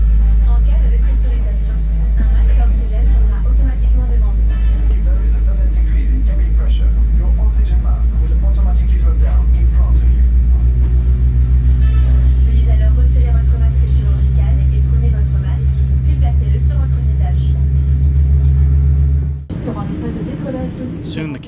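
Loud, steady low rumble inside an Air France Boeing 787 cabin at night during pushback and taxi, a constant droning hum that shifts abruptly near the end; no talk.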